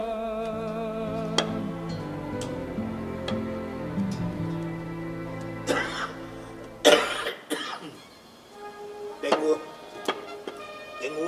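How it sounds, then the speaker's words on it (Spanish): Several sharp coughs burst out close by, following a stretch of voices and light tapping sounds. "Tengo una tos tremenda."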